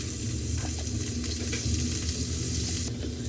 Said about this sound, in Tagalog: Gamitan natin sa ngayon ng margarine. Ito ng ating panggisa para mabango.